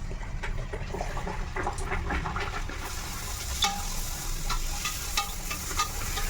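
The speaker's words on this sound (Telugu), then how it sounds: "ఆయిల్ కాగింది కదా ఇదిగో వేస్తున్నా" Puris frying in hot oil give a dense, steady sizzle that carries on throughout, with small crackles and the occasional bubbly pop. It is heard close up, and no one speaks.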